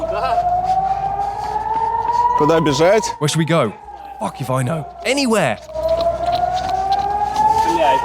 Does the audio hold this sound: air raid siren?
yes